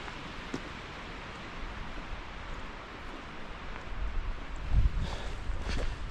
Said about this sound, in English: it's raining, it's super windy